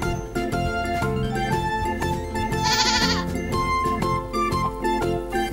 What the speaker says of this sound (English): Its name is goat.